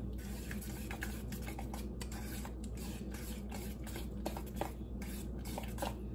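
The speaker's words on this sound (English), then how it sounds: "I'm just gonna stir it." A spoon stirs chunky homemade guacamole in a bowl close up, making soft, wet, squelching scrapes in a quiet, steady rhythm.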